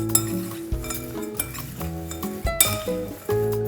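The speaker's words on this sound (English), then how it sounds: "So you just stir this all up, just get this all mixed in well." Dry granola ingredients stirred together in a bowl with a spoon, giving repeated scraping clinks and rattles of utensil against the dish, close and fairly quiet, with a brief burst of louder clatter near the end.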